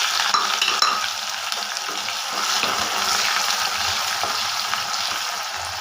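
Chopped onions frying in hot oil with dried chilli, whole cumin and whole garam masala, a steady close sizzle with occasional stirring scrapes in the pan, no voices.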